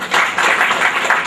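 Audience clapping at an awards event in Agra, with steady, dense applause from a crowd of hands sustained throughout.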